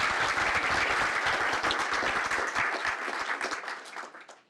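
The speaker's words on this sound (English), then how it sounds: "So let's give him a big round of applause." Dense applause from an audience welcoming a conference speaker, steady and close, tapering off near the end as the clapping fades.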